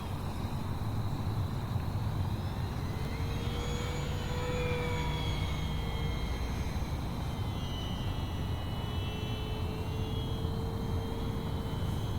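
An E-Flite RV-7 radio-controlled model airplane running on a 4S battery flies overhead, its electric motor giving a steady whine whose pitch sweeps up and down over constant wind-like background noise.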